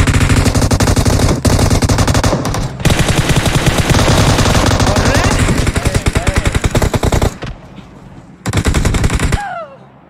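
Rapid automatic gunfire in a battle royale video game, loud dense bursts firing almost continuously for several seconds with brief gaps, ending in a short final burst and a rising electronic tone.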